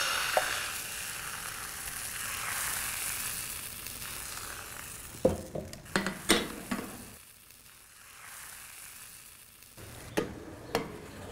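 Steady hissing sizzle of thin batter in a very hot frying pan, joined later by a few sharp clinks and scrapes of a utensil against the pan.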